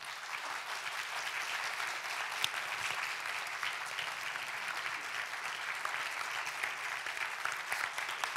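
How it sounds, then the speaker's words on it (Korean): Sustained applause from an audience welcoming presidential candidate Moon Jae-in of the Democratic United Party as he enters a televised debate forum, a steady dense wash of clapping throughout with no talk. "모두 큰 박수로 환영해 주시기 바랍니다"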